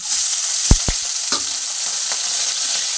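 Fish pieces fry in hot oil in a wok with a loud, continuous sizzle, close to the listener. A couple of brief low knocks come from the pan near the start, and no one speaks.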